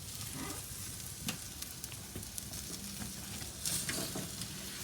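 A Cajun cowboy ribeye steak, just flipped, searing in a hot pan, giving a soft steady sizzle with a few brief clacks and scrapes, close but fairly quiet.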